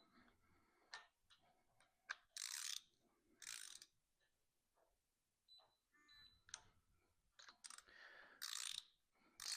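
Ratchet tightening cylinder head bolts on a Subaru EJ253 engine, several short bursts of clicking separated by quieter pauses, close but faint, with rustling and handling noises between strokes.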